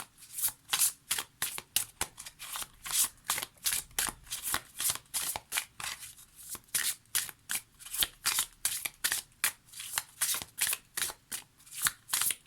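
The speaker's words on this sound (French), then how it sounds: "on va prendre une carte divinatoire des archanges" Oracle cards of an archangel divination deck being shuffled by hand, a steady run of crisp riffling flicks in quick rhythmic bursts, close and clear with no talking.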